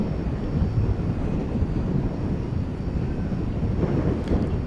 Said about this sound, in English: So this plane on its way to Cincinnati